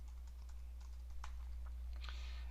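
Light typing on a computer keyboard, a few quiet irregular key taps close by over a steady low electrical hum, with no talk.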